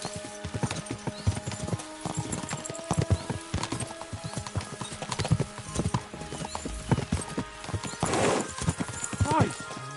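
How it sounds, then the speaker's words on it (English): Horses' hooves clip-clopping at a steady pace in the medieval game Kingdom Come: Deliverance II, with a whinny near the end and voices talking over the hoofbeats. "We should spur the horses on!"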